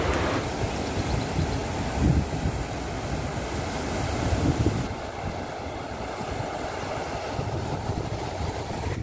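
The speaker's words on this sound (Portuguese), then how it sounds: "olha aquela correnteza" A river current rushes past loudly and continuously, a broad, steady wash of flowing water with wind buffeting the microphone.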